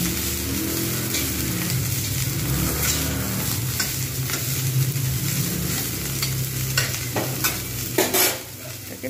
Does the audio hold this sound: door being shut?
no